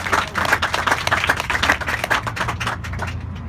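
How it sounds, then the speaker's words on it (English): A small crowd at a public gathering claps in a dense, fairly close burst of applause that lasts a few seconds and then tapers off. "I think we owe her a big applause."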